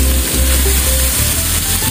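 Milkfish (bangus) sizzles and fries loudly and steadily in a pan over toasted tomatoes, with a continuous crackling hiss and faint stirring noises close by.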